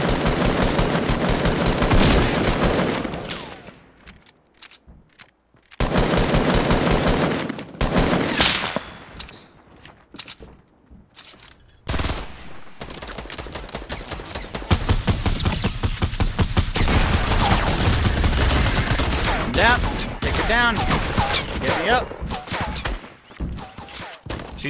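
Gunfire in Fortnite Battle Royale: loud bursts of shots and dense rapid fire that stop for short quiet gaps, then sustained firing through the second half, with a voice briefly heard over it.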